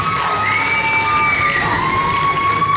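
A crowd at the Miss Fashion 2020 top-ten reveal cheering a finalist, with loud, sustained high-pitched shrieks and whoops filling a few close seconds.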